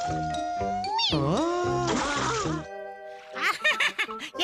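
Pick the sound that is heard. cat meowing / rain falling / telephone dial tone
cat meowing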